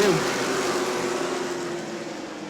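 Race cars in a Sportsman heat at New Smyrna restart on the green flag, a steady broad roar of engines holding throughout with a sustained tone, fairly loud and unbroken.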